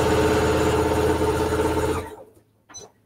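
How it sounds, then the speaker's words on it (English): A sewing machine runs fast and steadily, stitching two fabric pieces right sides together with a quarter-inch seam, then stops abruptly, followed by a brief soft handling sound. "And I'm going to sew these two right sides together."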